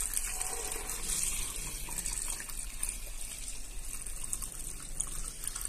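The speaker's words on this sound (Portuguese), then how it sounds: "E agora eu vou colocar água" Water poured steadily from a tap into a cooking pot for beans, a continuous, fairly quiet splashing gush that runs the whole time with no talking.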